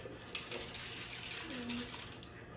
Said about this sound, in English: now we're going to add twice as much water as there are crystals